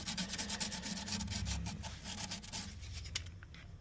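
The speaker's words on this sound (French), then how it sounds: "Ça, c'est le tuyau capillaire. Fait que je le sable toujours un peu là avant la soudure." Light rhythmic rubbing of sandpaper on a refrigerator's thin copper capillary tube, done to prep it for soldering on an LG fridge that is not cooling; quick repeated strokes, close and soft, with no talk.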